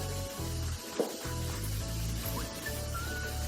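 Spice powders fry with onion and tomato in a pan, giving a quiet, steady sizzle over a low hum, with one soft stir near the start.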